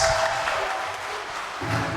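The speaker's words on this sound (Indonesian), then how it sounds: "Beri tepuk tangan" A church congregation applauds during a harvest festival service at GKJ Ketandan, steady clapping that dips slightly midway, then swells again near the end.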